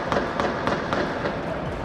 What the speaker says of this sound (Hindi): बेखौफ बदमाश किसी की परवाह किए बिना ताबड़तोड़ फायरिंग करते रहे।